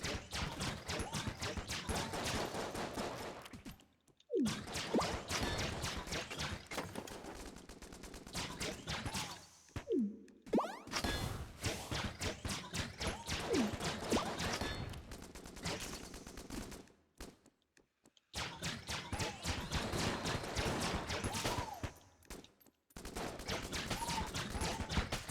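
Rapid weapon fire rattles through the video game Enter the Gungeon in long, dense, loud volleys, broken by a few brief pauses of near silence.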